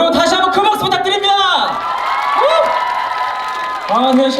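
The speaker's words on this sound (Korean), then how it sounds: "여러분 다시 한번 큰 박수 부탁드립니다" Fans at a solo summer concert cheer and scream with high, sustained shrieks and whoops over scattered clapping. The crowd noise swells, dips briefly in the middle, then rises again.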